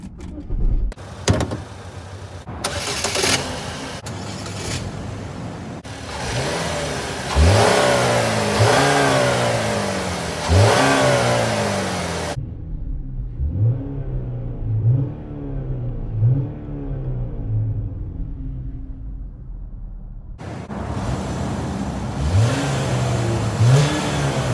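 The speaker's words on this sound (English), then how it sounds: "Let's start her up, see how she sounds." A 2011 Chevrolet Equinox LT engine cranks and catches, then revs repeatedly in rising and falling sweeps, settles briefly to a quieter idle, and revs again, heard close up with no talk.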